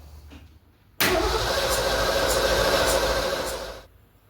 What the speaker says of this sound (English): So let's try the spin it over method, and I'll let you guys watch the oil pressure gauge,